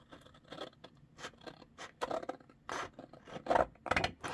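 Several crisp snips of scissors cutting through paper, irregularly spaced, close and fairly loud, with faint rustling between cuts.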